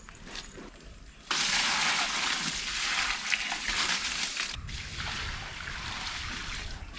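Water poured from a bucket gushes and splashes loudly for several seconds, a steady broadband rush with a brief pause before it resumes.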